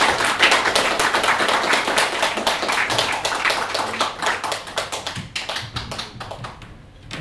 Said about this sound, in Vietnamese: xin một tràng vỗ tay